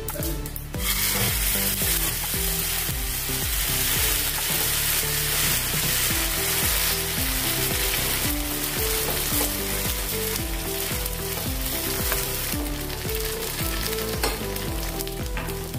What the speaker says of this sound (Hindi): तिल डालेंगे, राई डाल देंगे, अपना सारण डालेंगे,